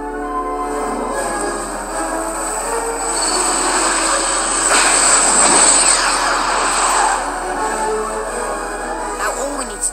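A train rumbles steadily, swelling louder near the middle as it seems to draw closer, then easing off, with a faint high whine over the roar.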